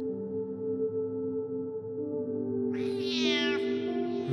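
A cat lets out a single loud, drawn-out meow near the end, rising out of a steady, tonal background hum.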